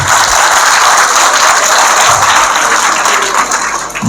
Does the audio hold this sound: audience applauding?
yes